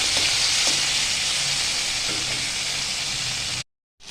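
Tengra fish frying lightly in hot oil in a wok give off a loud, steady sizzling hiss that runs unbroken, then cuts off abruptly into silence.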